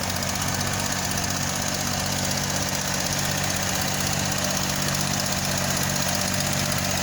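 A restored John Deere 1020 tractor idles at an outdoor plow day, its engine giving a steady, unbroken low chugging thrum at moderate distance.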